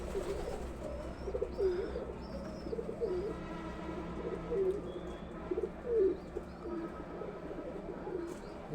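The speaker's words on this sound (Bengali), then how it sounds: "এই যে আমার কবুতরগুলো বসে আছে, যদিও আমি কবুতরগুলো ছাড়ি না, ঘরের মধ্যে আবদ্ধ করে পালি।" Pigeons kept enclosed in a home loft coo repeatedly in soft, low, throaty phrases, several birds overlapping at close range over a quiet room background, with occasional faint chirps.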